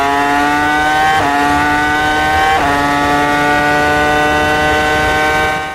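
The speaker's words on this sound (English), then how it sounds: "this is what that engine sounds like." A high-revving Formula 1 engine from F1's golden era screams past with a bright, steady whine, pitch dropping sharply twice as it shifts gears, loud and continuous with no talking.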